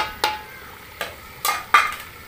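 Ginger garlic paste frying in browned masala in a pan, with four separate stirring scrapes over a low sizzle, close and moderately loud.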